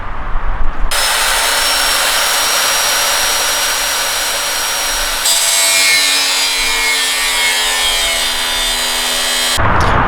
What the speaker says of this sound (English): we're just going to kind of keep making some cuts over here